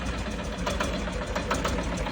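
Shifeng 244 belt-driven tractor with a three-cylinder engine idling nearby: a steady, loud, rough mechanical drone with a knocking pulse and vibration, continuous and without speech.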